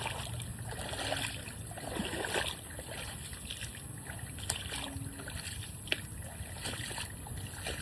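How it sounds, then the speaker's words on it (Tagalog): Floodwater from heavy monsoon rain flows through a coconut grove, a steady, faint rushing wash that continues without a break, with a few soft knocks. "Yan o, tubig. Baha po."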